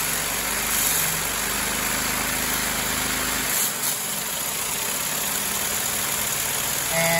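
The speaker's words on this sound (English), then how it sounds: "the engine is chugging along and is keeping up with the high speed" A LEGO two-cylinder engine drives a 3-speed transmission, a steady mechanical whir and rattle at close range whose low hum drops out midway, leaving a lighter whine that continues to the end.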